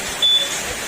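A Honda Click scooter's keyless system alarm gives one short, piercing electronic beep close by, over a steady background hiss.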